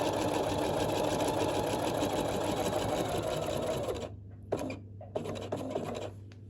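A sewing machine stitches a buttonhole in a steady, loud buzzing run for about four seconds, then stops, leaving two short bursts of stitching with pauses between them.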